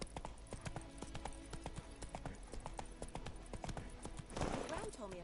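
Roach, the horse in The Witcher 3, trots with steady clip-clop hoofbeats that stay close and even throughout, and a swell of game sound near the end.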